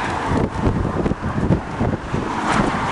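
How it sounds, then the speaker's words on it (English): Strong wind buffeting a microphone outdoors, with a dense low rumble and gusty roar that stay loud and steady throughout. "The wind is just too strong."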